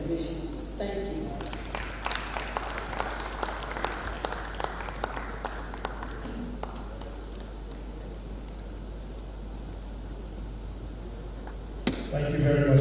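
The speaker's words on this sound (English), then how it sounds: "Another round of applause." A crowd applauds steadily in a large room at an international labour arbitration forum, clapping sustained and fairly loud, tapering off near the end as a voice starts to speak.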